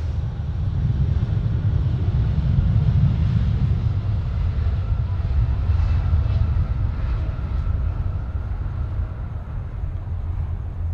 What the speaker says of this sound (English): Here we go. Air China out the door.